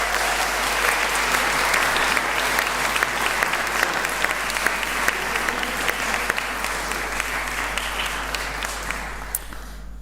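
A graduating audience at a university ceremony gives sustained, loud applause, a dense wash of many hands clapping that holds steady for about ten seconds before starting to thin out, with a low steady hum beneath.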